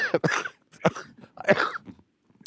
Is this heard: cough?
yes